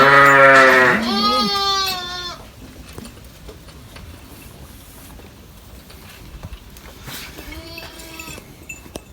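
Sheep on a Turkish farm during lambing season, with one loud, close, drawn-out bleat at the start, another fainter bleat later, and quiet barnyard ambience in between.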